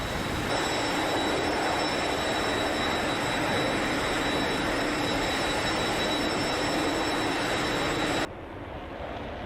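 Multiple MiG-19 jet engines roar in the DCS flight simulator game, a loud, dense, continuous rush with thin whining tones on top, cutting away abruptly near the end to a quieter hum.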